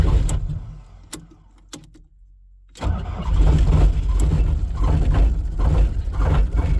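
A cold diesel equipment engine, warmed with a heat gun blowing into the intake, cranks after a quiet stretch and catches, settling into a loud, rough, uneven run that isn't firing on all cylinders.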